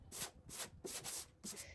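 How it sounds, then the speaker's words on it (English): Repeated strokes of scuff sanding across an old wooden hutch before painting, four bursts of rough, hissing abrasion with short pauses between, close and steady with no talking. "I'm just going to sand it down a little bit, just scuff sanding"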